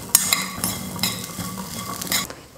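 A spoon clinks and scrapes against a metal pan while salt is stirred into sundal, a cooked legume snack, giving several sharp taps spaced irregularly over a soft background, close and fairly loud, with no talking.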